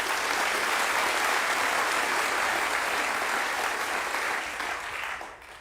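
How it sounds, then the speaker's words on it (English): Audience applause at a space flight panel, dense steady clapping from a large crowd that holds strong for about five seconds, then thins and fades at the end. "Please join me in giving them a round of applause."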